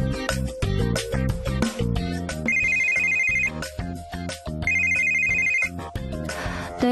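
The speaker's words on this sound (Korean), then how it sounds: "네, 안미래 선배님 휴대폰입니다" A mobile phone rings loudly and close by, its melodic ringtone playing a busy run of notes with two sustained high tones, unbroken for about seven seconds with no talking.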